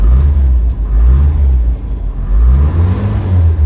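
A cold 1994 Land Rover Defender 110 with a carburetor engine and no choke starts up and revs, its loud, close engine surging in two swells with a dip between them.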